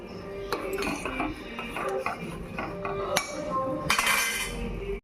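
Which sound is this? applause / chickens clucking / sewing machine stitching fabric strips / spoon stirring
spoon stirring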